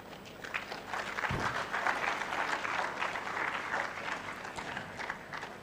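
An audience clapping at a talk on investing and making money in Ghana, a dense moderate patter of many hands that carries steadily throughout, with a thud early on and no voices.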